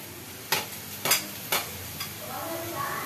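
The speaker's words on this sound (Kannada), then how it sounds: "ಹಾಕಾಯ್ತು, ಚೆನ್ನಾಗಿ ಫ್ರೈ ಮಾಡ್ಕೊಳ್ಳೋಣ." Ginger, onion and chilli paste frying in a pan for carrot chitranna makes a soft, steady sizzle. Three or four sharp stirring scrapes come near the start, then a quieter, even fry continues.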